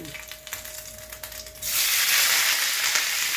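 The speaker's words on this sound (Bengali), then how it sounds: "পনিরটাকে একটু ভেজে নিচ্ছি।" Paneer drops into a hot pan, and a loud, steady frying sizzle bursts up close and holds after a quieter, shuffling lead-in.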